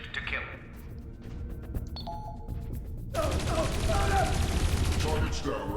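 Sustained gunfire in the video game Dreamfall Chapters as guards are ordered to shoot a fleeing runner, a dense rapid burst building loud from about the three-second mark over tense game ambience, with no talk over it.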